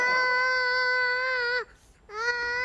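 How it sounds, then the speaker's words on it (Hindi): A baby cries in a Hindi TV comedy serial, a loud sustained wail that breaks off briefly before resuming, close and alone. "ये तो किसी बच्चे के रोने की आवाज है"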